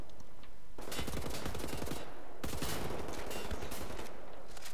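Enemy gunfire in Wolfenstein: The New Order, with two sustained bursts of rapid automatic shots and bullet impacts, fairly faint and continuous, separated by a short gap.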